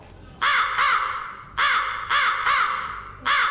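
A crow caws repeatedly, loud and close, in a steady series of harsh calls with short gaps, heard alone without talk.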